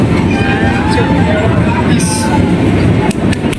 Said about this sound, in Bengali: ট্রেনটা চলে যাচ্ছে